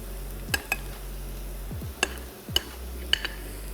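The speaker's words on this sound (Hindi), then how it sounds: "कीमा हमारा फ्राई हो रहा है" Minced meat (qeema) with onions frying in a pan, a low steady sizzle beneath a few sharp metallic clinks of utensil against the pan, close up with no talk.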